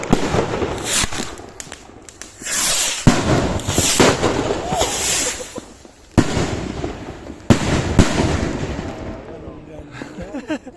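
New Year's Eve fireworks and firecrackers going off in loud, close bursts, sharp cracks and crackling volleys repeating over several seconds, with voices faintly mixed in.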